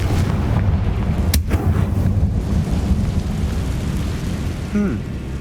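A Confringo fire spell explodes against a barricade in the Hogwarts Legacy video game: a sharp blast followed by a sustained, loud roaring rumble of fire and debris, with a faint voice near the end.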